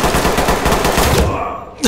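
Loud, rapid automatic gunfire in the tactical shooter Ready or Not rattles close and continuous for nearly two seconds, then cuts off abruptly.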